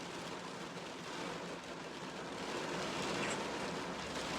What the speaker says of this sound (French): On avance parce qu'il a commencé à pleuvoir.